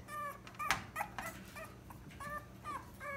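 Puppies whimper and yip in short, high, wavering cries, several overlapping in an uneven series against a low background hum.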